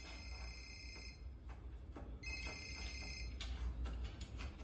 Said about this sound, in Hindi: अब नरदीन फोन कर रहा है।